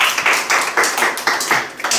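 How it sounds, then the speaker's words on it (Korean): A Korean classroom claps for a student who has just read a picture book aloud at a class showcase. The close, loud applause comes in a brisk, steady rhythm of bursts about four times a second. "네, 잘 읽었습니다. 박수."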